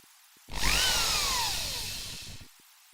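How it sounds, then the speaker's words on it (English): A power drill bores a hole in dense hardwood, starting abruptly, holding a loud steady whine whose pitch sags as the bit loads up, then cutting off after about two seconds. "when you're drilling a hole, particularly in hardwood"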